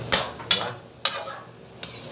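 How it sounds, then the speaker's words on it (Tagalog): Chop suey with cream of mushroom being stirred in a pan: four quick scraping strokes at uneven intervals, each followed by a soft sizzle, close and fairly quiet, with no talking. "ahaluin na naman natin yan"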